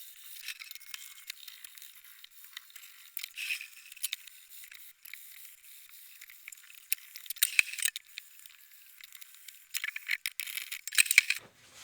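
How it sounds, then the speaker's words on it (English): 400 grit sandpaper rubbed along a table edge, a thin, high scratchy rasp in irregular strokes, fairly close and alone. "I am just running this 400 grit over the edge, just to take off any imperfections that might be there"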